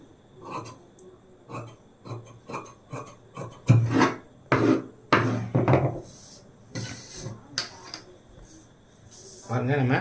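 Scissors cut through blouse lining fabric for a size 38 blouse in a series of close, rasping snips in uneven bursts. A voice talks intermittently between and over the cuts.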